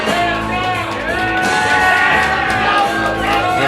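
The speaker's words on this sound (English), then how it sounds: "the crowd seems to be appreciative of the skill of Mr. Nick Moss" A wrestling crowd at an indoor CCW show shouts and whoops in sustained, loud cheering for a wrestler, a continuous roar of voices with scattered yells rising over it.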